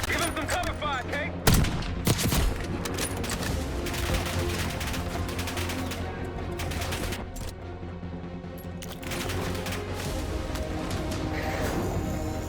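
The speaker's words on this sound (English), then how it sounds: "they're shooting at us, so they gotta stop" Video game gunfire on a bridge during a sniper firefight, a dense continuous stream of shots and crackling impacts with one sharp louder crack early on, heard throughout beneath a steady background.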